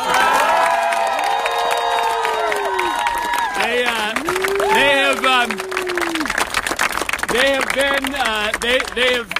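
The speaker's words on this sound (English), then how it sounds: "So give a big round of applause to the Capitol Police who are here." A crowd at an outdoor rally on the Capitol steps and plaza applauds and cheers for Capitol Police, loud and close, with whoops and shouted voices over steady clapping.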